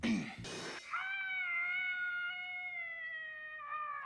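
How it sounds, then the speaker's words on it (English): A cat lets out a long, strained yowl with wavering harmonics, preceded by a brief scuffle, loud and close. "Like a cat being choked to death."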